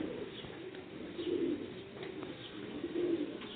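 Sialkoti pigeons coo repeatedly nearby in soft, throaty rolling calls over a low background hum.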